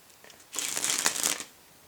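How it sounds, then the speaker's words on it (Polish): Playing cards riffle and cascade from one hand to the other in a card spring flourish, a brisk, dense fluttering burst lasting about a second, close and fairly loud. "Karty spadają."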